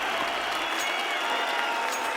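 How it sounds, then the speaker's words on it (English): Arena crowd at a BLAST Pro Series Istanbul 2018 Counter-Strike match between Cloud9 and Space Soldiers on Mirage, a steady broad wash of cheering and applause sustained throughout, loud and even with no clear voices on top. "Crowd are happy."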